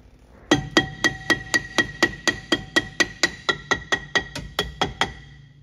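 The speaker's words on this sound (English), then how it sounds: "I'm using a brass hammer" Brass hammer knocks on the aluminum rear brake drum of a 1976 Datsun 280Z: about eighteen evenly spaced metallic strikes, close and ringing slightly, with no talk.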